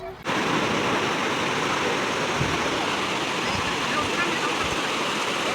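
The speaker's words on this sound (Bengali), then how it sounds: "এই সমুদ্রের গোলা একটা সাউন্ড যেটা আছে সেটা শুনতে, আলাদাই অনুভূতি দেয় দীঘা" Sea waves washing onto Digha beach at sunset, a steady broad roar of surf that fills the scene evenly from start to finish, with no distinct individual breakers standing out.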